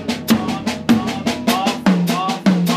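Alternating strokes on a low tom and a high tom in a steady rolling drum exercise, the right hand taking on beats and the left the off beats; about a dozen sharp, resonant hits ring out close and loud with no talk.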